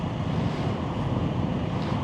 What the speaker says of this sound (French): Ah, un petit vent quand même.